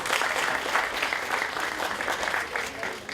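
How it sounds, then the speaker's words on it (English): At a charity walk event, an audience claps in a steady, fairly soft round of applause, a continuous patter of many hands heard from some distance. "But give them a round of applause."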